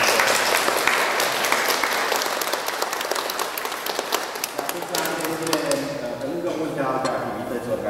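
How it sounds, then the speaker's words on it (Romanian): Applause from an audience at a library reading-invitation event for Mrs Zaharia, a dense, steady clapping that carries through the clip before gradually thinning and fading toward the end. "Haideți să o aplaudăm pe doamna Zaharia."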